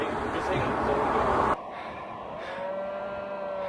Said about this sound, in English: It's a whole field of cows.